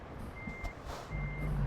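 Reversing beeps sound from a backing truck in American Truck Simulator, two evenly spaced high tones over a deep idling engine drone that swells toward the end.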